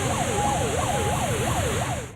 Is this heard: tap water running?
no